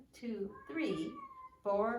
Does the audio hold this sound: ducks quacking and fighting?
no